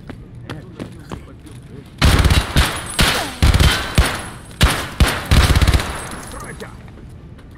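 Gunfire in the game Escape from Tarkov, loud close bursts of rapid automatic fire from a submachine gun in several sharp volleys, with quieter single shots and some talking around them.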